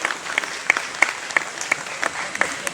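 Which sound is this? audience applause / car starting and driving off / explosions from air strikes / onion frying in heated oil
audience applause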